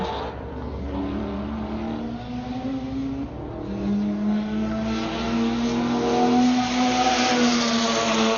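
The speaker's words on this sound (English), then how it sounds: "There is something to be said about a rotary at full song." A rotary-engined race car at full throttle on the Buttonwillow circuit, a loud, steady buzzing howl whose pitch climbs through the gears with one shift partway through, heard alone without talk.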